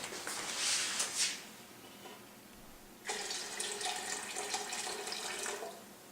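A tap runs colder water into a container in a lab setting, giving a bright splashing rush that cuts out briefly and then resumes steadily, close and clear with no talk.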